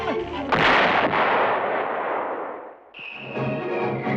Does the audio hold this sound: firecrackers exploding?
yes